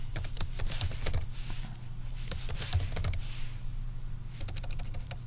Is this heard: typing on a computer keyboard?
yes